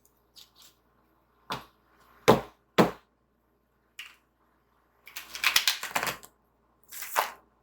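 Tarot cards shuffled in short bursts, a few sharp riffles and slaps separated by pauses, close and fairly loud.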